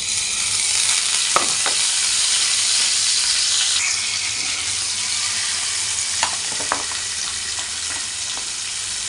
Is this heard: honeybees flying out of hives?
no